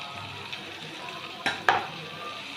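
Onion, green chili and coriander leaves fry lightly in a pan with a soft, steady sizzle, broken by a couple of sharp utensil clinks from stirring partway through.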